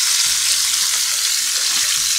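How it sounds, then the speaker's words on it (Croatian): Bell peppers and onion frying in hot oil left over from browning meat, a steady bright sizzle with occasional stirring, close and continuous with no talk. "sada odmah na ovo ulje na koje se pržilo meso, idemo dodati papriku i luk koji smo izrezali"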